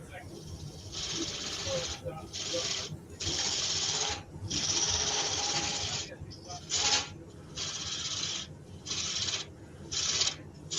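A skew chisel shaves a spinning wooden spindle on a lathe, removing a shoulder: bursts of steady hissing, rasping cuts start and stop repeatedly, close and fairly loud over the lathe's low hum.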